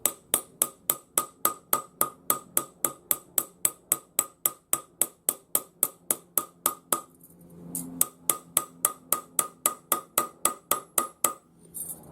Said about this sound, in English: So I'm just using a shiny steel block on my lap and my jeweler's hammer, which has kind of a chisel tip